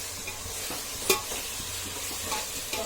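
Garlic ginger paste frying for veg pulao, a steady low sizzle with spoon scrapes and one sharp clink against the pan, quiet and close.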